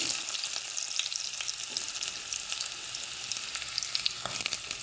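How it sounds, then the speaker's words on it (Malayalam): Shallots frying in coconut oil in a pan on the stove for Kasaragod chicken curry, a steady bright hiss with scattered pops and crackles, close and alone. "വെളിച്ചെണ്ണ അടുപ്പത്ത് വെച്ചു ഉള്ളി ഇട്ട് കൊടുക്കുന്നത്"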